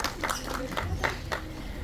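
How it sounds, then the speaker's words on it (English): An audience at Queenstown's Kiwi Park claps for two workers, Shane and Bruce, a fairly soft patter of separate claps heard at a moderate distance. "Let's give a round of applause to Shane and Bruce there."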